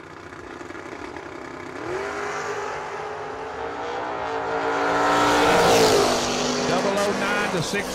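A Ford Mustang drag racing car launches and accelerates at a drag racing event, its loud engine roar climbing steadily in pitch and swelling toward a peak before easing, with faint voices underneath.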